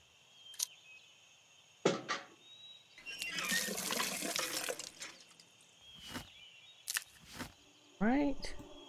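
Water being collected into a water can in the video game Fear For Sale, a burst of running, splashing water lasting a few seconds, surrounded by short game clicks and effects, with a player talking.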